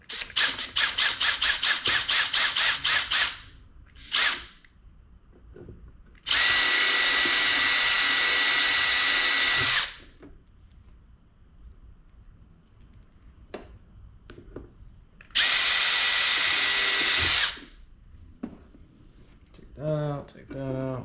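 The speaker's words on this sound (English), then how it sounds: "drill a little tiny pilot hole" A power drill bores a tiny pilot hole in a portable boat speaker box build, with several sustained high whirring bursts and short starts and stops between them. Clicks, handling noise and nearby talk fill the gaps.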